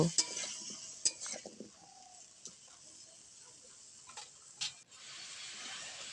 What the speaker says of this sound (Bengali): এবার সবজিগুলোর সাথে মশলাটা পাঁচ থেকে ছ মিনিট সময় ধরে হালকা আঁচে কষিয়ে নেব